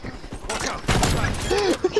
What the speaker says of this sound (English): Matt, do you have the capability of shooting your gun?